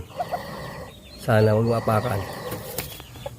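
Hens with newly hatched chicks in a backyard coop give soft clucks and a louder throaty call, while a person talks nearby.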